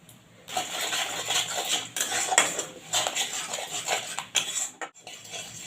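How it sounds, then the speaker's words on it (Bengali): A utensil stirs sour curd, cashews and poppy seeds in a pan for an eggplant-in-yogurt dish, giving steady scraping and metallic clinks at close range with no talking. "আমি টক দই কাজু বাদাম পোস্তটা দিয়েও একটু দু তিন মিনিট নেড়ে চেড়ে নিলাম"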